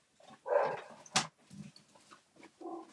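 Several household dogs bark and whimper indoors, with a sharp bark standing out among softer whines and yips, close and fairly loud in short bursts.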